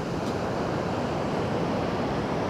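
Steady broadband roar of surf and wind on the open shore at Pantai Depok beach in Yogyakarta, loud and continuous with no distinct breaks or voices.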